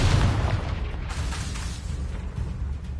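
The Confringo blasting spell in Hogwarts Legacy on PS5 goes off as a booming fiery explosion, with a loud low burst at the start and a rumbling tail that stays strong throughout.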